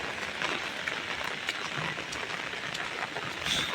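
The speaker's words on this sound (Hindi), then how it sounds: "बारिश भी हो रहा है बहुत ज़्यादा।" Heavy rain pouring down steadily outdoors, a dense even hiss of drops on surfaces with no gaps, close and moderately loud.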